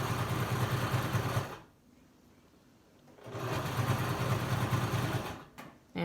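Home sewing machine stitches a fitted fabric face mask in two close, steady runs of rapid whirring, separated by a short pause, with no talking over it.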